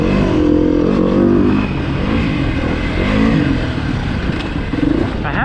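A 2019 Beta 350RR-S four-stroke dirt bike engine revving loudly while being ridden, the pitch rising and falling through repeated throttle blips and gear changes, heard close with wind and clatter.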